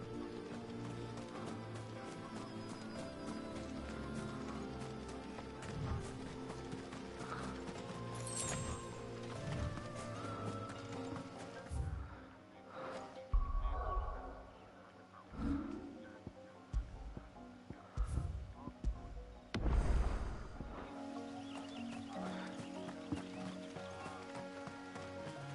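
Horse hooves clopping and a neighing horse in the video game Final Fantasy 16, set over game music and ambience, with hoof steps and whinnies coming in bursts toward the latter half.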